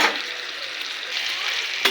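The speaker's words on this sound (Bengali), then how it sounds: "মাংসটা ভালো করে ভেজে নেব" Pieces of chicken meat sizzle in a kadai with a small amount of oil for khichuri. The hiss is continuous and close, with a sharp clink or stir at the very end.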